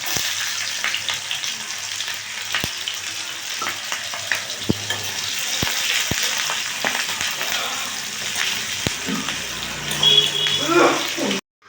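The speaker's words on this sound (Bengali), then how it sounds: "দেখুন পেঁয়াজগুলো এরকমভাবে ভালো করে ভেজে নিয়েছি" Chopped onion and chili fry in oil for a Malabar spinach dish, a continuous sizzle with scattered clicks and spoon scrapes as they are stirred, rising near the end.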